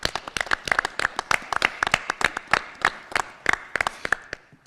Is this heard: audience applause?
yes